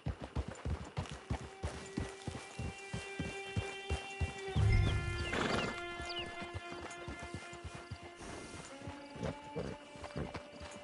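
Steady clip-clop of a video game horse's hooves trotting, with a whinny rising in the middle; no talking.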